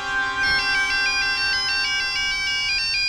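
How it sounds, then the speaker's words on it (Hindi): A mobile phone rings with an incoming call, its bright electronic melody repeating steadily and loudly with no voices over it. "तूने मोर बोला और मोर का फोन आया।"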